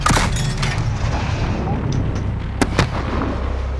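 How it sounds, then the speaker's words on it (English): Illumination rounds fired in Modern Warfare, a deep booming launch followed by rumbling, with a couple of sharp cracks later in the short stretch of battle noise. "Illumination rounds. Light us up, Kyle."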